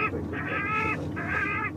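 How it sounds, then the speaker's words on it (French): Recorded rook calls played through a loudspeaker at an airport to scare birds away, two harsh, drawn-out squawks in succession, fairly loud and alone. "Ça, c'est le cri du corbeau freux."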